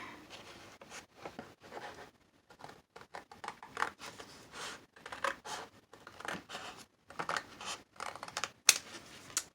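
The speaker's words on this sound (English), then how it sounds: "And then this part, I'm gonna cut this even here." Scissors cutting paper for a junk journal cover, a close run of short, irregular snips and crisp slicing bursts separated by brief pauses, fairly quiet overall.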